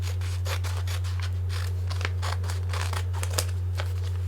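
Scissors snip steadily through fabric for a Loki costume sleeve, a run of close, crisp cutting strokes over a constant low hum, with no talking.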